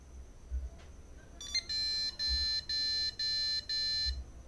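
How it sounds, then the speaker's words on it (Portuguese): Computer motherboard POST beeps at power-on during a repair of a board that powers up but gives no video: a brief chirp, then a run of five or six sharp electronic beeps in a steady rhythm, quiet and alone. "deu uns bips meio estranho, mas a placa deu vídeo"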